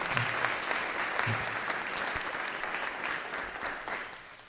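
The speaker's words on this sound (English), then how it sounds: "Let's give him a round of applause" An audience at a school board of education meeting applauds Mr. Warner, a dense, even round of clapping from a roomful of people that carries on throughout.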